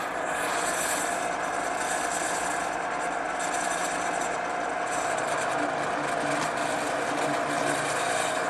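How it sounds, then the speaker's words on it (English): A drill press boring 1/4-inch dowel holes in wood with a brad point bit, a steady continuous motor whine with cutting noise held at an even level throughout, close and fairly loud. "I'm ready to drill those over here on the drill press, where I've set up a 1/4-inch brad point bit"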